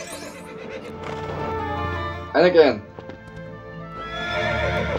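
A horse in the LEGO Indiana Jones video game gives a sharp, loud whinny in the middle, with clip-clopping hooves and a voice speaking around it.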